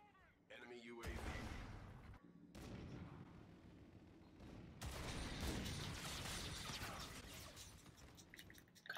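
Sniper rifle shots from the Trek 50 in a first-person shooter game, loud sharp blasts with sustained crackling battle noise and broadband bursts, a voice talking intermittently over the gunfire.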